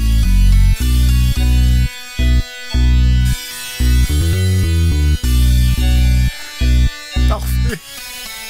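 Music from the Sega Genesis game Ecco the Dolphin plays loud and alone: synthesized tones step through short repeating bass notes and chords with abrupt pauses between phrases.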